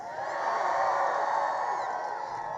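Large rally crowd in Kinston, North Carolina cheering and whooping, a loud sustained roar that swells and holds for a few seconds, with no single voice standing out.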